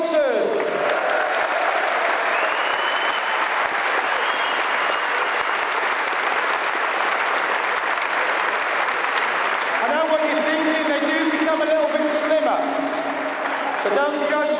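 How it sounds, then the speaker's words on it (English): Sustained audience applause for a retiring football captain fills the room at a steady, dense level, with whistle-like tones and a voice rising over it near the end. "give a massive round of applause"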